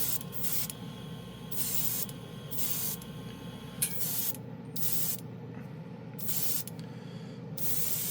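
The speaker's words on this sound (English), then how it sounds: "I'm going to obviously use that airbrush cleaner I just showed you" An airbrush sprays airbrush cleaner in bursts of hissing spray, about six or seven short blasts separated by brief pauses, close and fairly loud, while testing Golden High Flow white airbrush paint.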